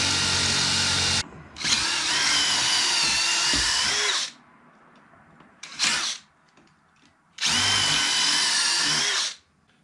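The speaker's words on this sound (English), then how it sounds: "So now I'm just taking my drill and just going around the rubber and drilling it out." Power drill boring out a rubber leaf spring bushing on a Chevy C10, three loud close bursts of high-pitched whining drilling separated by short pauses with faint handling noise.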